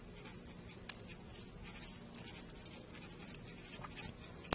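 Pen or marker writing chemical symbols on a board or paper, a soft continuous scratchy patter of strokes, quiet and close with no talking.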